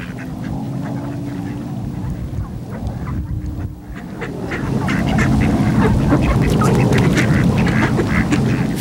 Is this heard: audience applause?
no